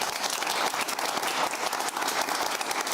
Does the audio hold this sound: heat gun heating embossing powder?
no